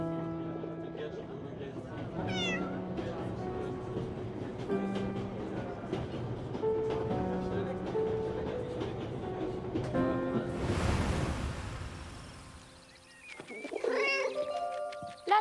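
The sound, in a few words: cat meowing in video game 11-11 Memories Retold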